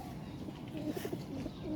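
Pigeons cooing close by on a rooftop before feeding, with a few soft, short throaty coos over a low background murmur.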